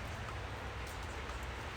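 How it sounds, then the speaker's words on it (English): Steady rain on a cold, foggy morning, a faint continuous hiss of falling drops with no other sounds. "It's a very rainy, cold, foggy morning."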